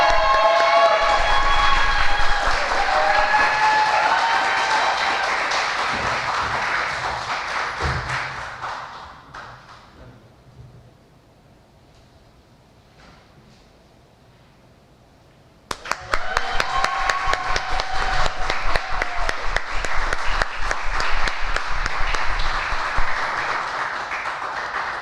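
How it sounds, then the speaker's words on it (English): An audience at a National Honor Society induction and awards ceremony applauds, with loud sustained clapping and cheering that fades into near quiet, then a second burst of dense applause returns sharply and holds to the end. "Can we please give everybody another round of applause?"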